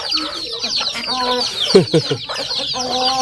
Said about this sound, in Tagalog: Ayan yung manok natin dito